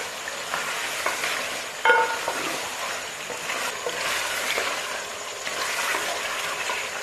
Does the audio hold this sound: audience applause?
no